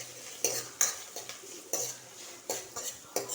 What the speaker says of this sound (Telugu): ఉల్లిపాయ, పచ్చిమిర్చి, కరివేపాకు తాలింపు పెట్టుకోవాలండి